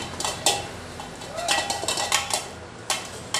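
Hot boiled potatoes for sabudana vada are mashed with a glass, giving repeated dull knocks and clinks against a pot or bowl in an irregular rhythm, close and fairly loud.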